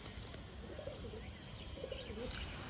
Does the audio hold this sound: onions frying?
no